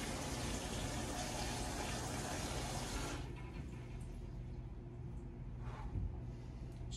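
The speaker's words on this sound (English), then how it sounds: "Keep doing it, keep flushing it until it comes out clear." Water rushes loudly through an HVAC water filter being flushed, a broad steady gush that cuts off abruptly after about three seconds, leaving quieter trickling and faint handling noises.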